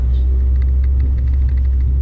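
A car on a driving lesson turns around. Its engine rumbles steadily and close by, low and continuous for about two seconds, with no voices.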